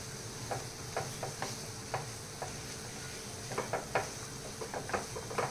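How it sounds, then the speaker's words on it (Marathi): A ghee and mawa milk cake mixture is stirred in a pan over a faint steady sizzle, with repeated soft scraping strokes of a spoon that quicken toward the end, with no talking. "आता हे पण ह्याच्यामध्ये छान मिक्स करून घ्यायचं।"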